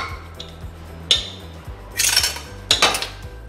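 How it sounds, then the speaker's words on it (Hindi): A spatula stirs and mashes lentil vegetable soup in a pot. One sharp metallic clink is followed by two louder scraping, clattering bursts against the pot over a low steady hum, with no talking. "मैं इस तरीके से इसको हिला दूंगी ताकि अच्छे से मैश हो जाए"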